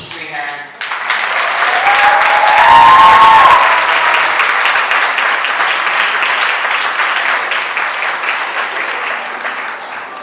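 An audience at an award ceremony applauds, a loud, dense wash of clapping that swells early and holds steady for about ten seconds, with a voice briefly audible at the start.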